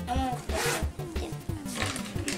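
A zipper is pulled in short, quick rasping strokes, close by, with a voice talking over it.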